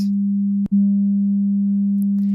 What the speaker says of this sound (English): Now I'm going to turn on a tube compressor and it's going to change the sound and add harmonics.